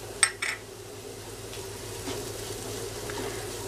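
Grated dry coconut lightly sautéed in a pan, a soft, steady sizzle running quietly throughout after a couple of brief clinks at the start.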